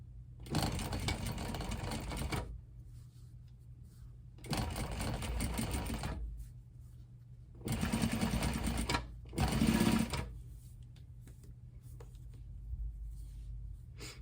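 Sewing machine top stitching a seam on a sweatshirt being made into a corset: four steady runs of fast mechanical whirring separated by quiet pauses, close and clear.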